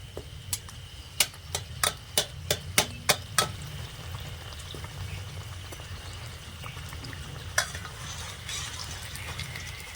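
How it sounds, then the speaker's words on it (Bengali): An aloo Mughlai paratha frying in oil gives a low, steady sizzle. Sharp ticks and clacks from a utensil come in a quick run early on, with one more later. "উল্টে দেব উল্টে ওই পিঠটাও ভালো করে ভেজে নেব"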